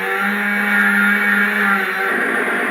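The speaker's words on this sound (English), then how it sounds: "You've got the revving the whole time." A small motor in an Army of Darkness toy chainsaw revs continuously at close range, a loud buzzing whine with steady tones that dips slightly in pitch near the end.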